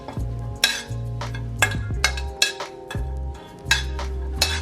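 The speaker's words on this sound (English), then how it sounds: "And then just kind of stir it around." A spoon stirs a vegan nacho dip with black beans in a bowl, making repeated sharp scraping and clinking strokes at an irregular rhythm. The sound is close and clear, and no one speaks.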